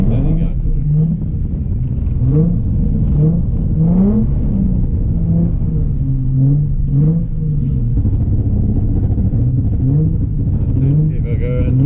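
A Nissan 350Z revs hard while drifting, its engine rising and falling in repeated pulses at close range, with a steady rumble underneath and voices talking over it throughout.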